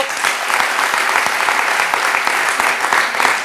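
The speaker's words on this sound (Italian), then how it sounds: "Facciamo un applauso." An audience at a televised Italian music segment breaks into steady, dense applause, loud and close, sustained evenly throughout without any voices rising above it.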